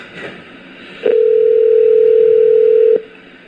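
Telephone dial tone on a handset during a call-back, a single steady tone held for about two seconds, loud and close over faint background hiss.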